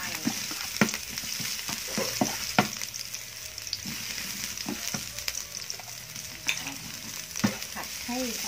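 Stink beans and minced pork stir-frying in a hot pan with garlic and chili, a steady sizzle broken by repeated scraping strokes of a spatula at close range, with no talk.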